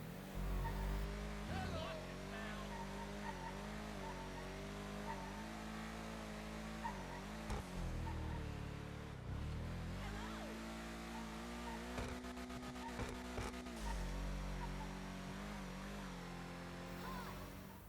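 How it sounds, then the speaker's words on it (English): An Übermacht Cypher, a BMW M2-based car in GTA V, revs and accelerates, its engine pitch climbing and dropping through gear changes, with brief dips and a rapid rattling burst near the end. "This is the Übermacht Cypher, which is mostly based on a BMW M2"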